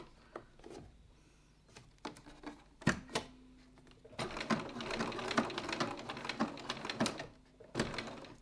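A sewing machine stitches a leather wallet strap, running in short bursts of close, rapid needle clatter separated by quiet gaps and small handling knocks, with a longer continuous run in the middle.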